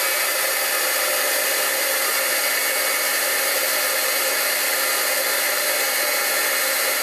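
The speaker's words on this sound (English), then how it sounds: "So I'm going to turn on the heat gun" Steady, loud blowing roar of a heat gun running continuously for embossing, held about an inch from the surface, with no change over several seconds.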